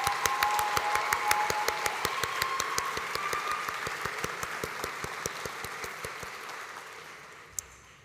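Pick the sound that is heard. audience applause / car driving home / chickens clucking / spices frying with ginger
audience applause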